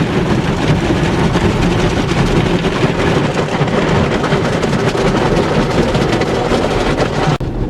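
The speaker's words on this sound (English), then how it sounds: "So into the car wash it goes." An automatic car wash runs around a white Audi S4, a loud, steady rumbling wash of water spray and churning brushes with heavy low-end drone throughout, and no talking.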